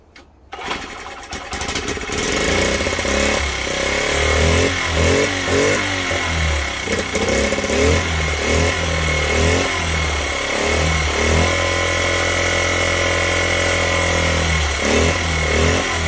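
A Honda Z50 minibike with a newly fitted CDI conversion kit sputters to life and settles into a loud, close, steady single-cylinder idle with a few rough revs early on, no voices over it.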